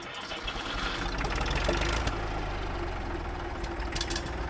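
A 1959 Fordson Dexta tractor engine fires up and settles into a steady, rough mid-low idle, a loud continuous chugging with a knocking edge and no talk over it.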